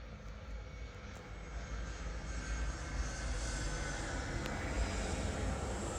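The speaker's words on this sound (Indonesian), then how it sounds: "kenapa ya pesawat lewat mulu ya?" An airplane flies overhead, a broad engine roar that builds steadily over several seconds and stays loud throughout, with no talking.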